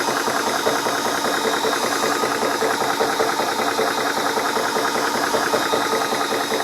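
A Spritech 4500 PSI PCP air compressor for air rifles runs steadily close by, a continuous mechanical hum with a fast rattling knock that holds an even level throughout and has no voices over it.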